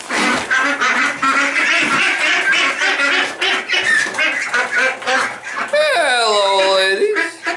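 Ducks on a homestead quack loudly near the end, while a person keeps talking over them throughout.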